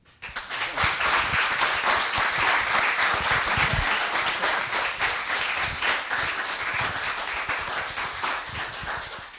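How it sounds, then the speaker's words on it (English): Sustained round of applause from a graduation audience, many hands clapping at steady loudness for several seconds before tapering slightly. "could we just give them a round of applause"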